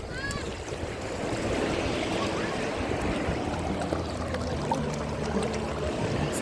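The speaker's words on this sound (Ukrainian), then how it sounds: "Хвилі серйозні" Steady surf rolls in as a constant broad wash on a Black Sea beach in Odesa, with wind buffeting the microphone and a faint shout near the start.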